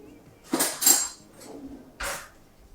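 A few sharp metallic clinks, like a spoon knocking against dishes, come in short separate bursts in a quiet room.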